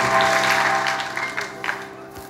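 A studio audience on a comedy variety show bursts into loud applause that gradually fades, with a low steady hum underneath and no talk over it.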